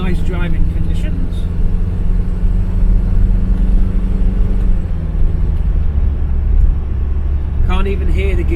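A Ford Cortina MK3 with a Pinto engine and automatic gearbox drives along at a steady cruise, its low engine drone and road rumble constant and close throughout, with no clear gear changes.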